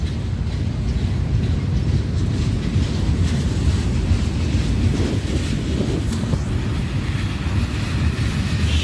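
CP freight trains pass Dorval station in Montreal, a steady low rumble of rolling rail cars blended with heavy wind buffeting on the microphone, continuous throughout.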